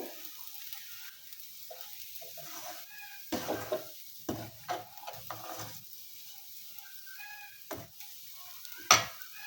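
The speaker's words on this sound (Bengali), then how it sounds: "তো বন্ধুরা এভাবে বেশ কিছুক্ষণ নেড়ে চেড়ে সেমাইটা ভেজে নিতে হবে" Lachha semai vermicelli stirred and fried in a pan, with a faint steady sizzle and scattered scraping and clinking stirs that grow louder near the middle and end; no speech.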